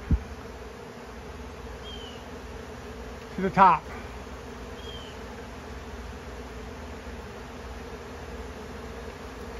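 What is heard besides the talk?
honeybees and robber bees buzzing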